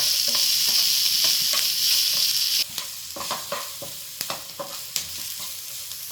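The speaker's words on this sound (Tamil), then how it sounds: "குடமிளகா போட்டு நல்லா கிண்டிக்கலாம்." Capsicum stirred and sautéed in a pan for a Tamil chicken sandwich, a bright steady sizzle at first, then quieter frying broken by repeated scraping stirs of the spoon against the pan, close up with no talking.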